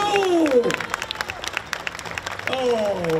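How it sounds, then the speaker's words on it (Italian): An outdoor crowd at a chili pepper festival in Diamante, Calabria, breaks into a short burst of clapping. A presenter's voice is heard just before and just after it. "Un bel applauso di quelli come sappiamo fare noi, forte, forte!"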